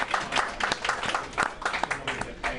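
A crowd at a sports talk show broadcast from a bar applauds, a brief burst of dense clapping heard close, with a voice talking over part of it.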